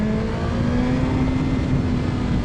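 A 2022 BMW S1000XR motorcycle engine running close by, a loud continuous rumble with a steady droning tone and no voices.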